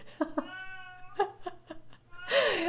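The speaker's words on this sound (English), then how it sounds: "that's my cat in the background." A pet cat meows several times nearby indoors, wanting to be let into the room, giving short then drawn-out wavering cries with one louder, harsher yowl at the end.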